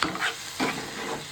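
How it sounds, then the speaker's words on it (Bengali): Food sizzling and frying in a pan, with a few quick stirring scrapes rising above a steady bright hiss, close by and fairly loud. "ভাজা হতে থাকুক"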